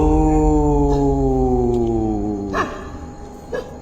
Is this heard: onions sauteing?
no